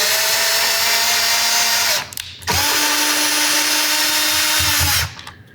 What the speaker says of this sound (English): You just use one of the set screws and your driver bit, and you can clean that out.